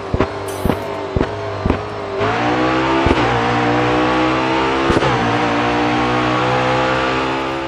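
Race car engine from the racing game Grid Autosport, revving hard through quick gear changes with sharp upshift cuts, then holding a loud, steady high-revving drone close by.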